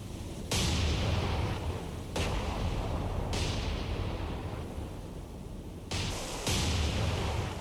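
Naval artillery shells fall short and explode in the War on the Sea game: several heavy, booming blasts a few seconds apart, each followed by a long rumbling decay, with no talking.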